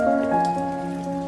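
Gentle rain patters steadily and evenly throughout, with sustained tonal music droning underneath.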